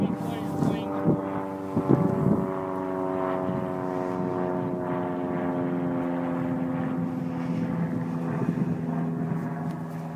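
Helios model airplane engine droning steadily through its maiden flight, a sustained propeller whine holding throughout at moderate distance, with a few brief bumps and handling noises near the start.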